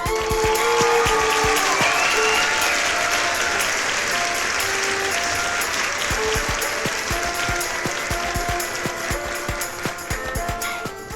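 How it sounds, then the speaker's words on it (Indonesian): An audience at a talent show claps for the judges, a sustained burst of dense applause that is loud at first and slowly thins out with scattered individual claps. "Beri tepuk tangan untuk juri kita."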